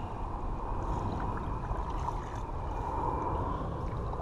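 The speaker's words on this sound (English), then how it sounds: "If I create some waves over here on this shoreline, I will get this pond moving" Water sloshing and lapping against a pond shoreline as waves are stirred up, a steady, dense wash of gurgling water close by, with no talking.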